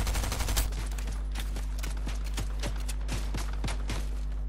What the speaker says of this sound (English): We're being shot from far!